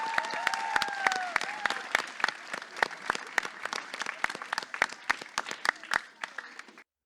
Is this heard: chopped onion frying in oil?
no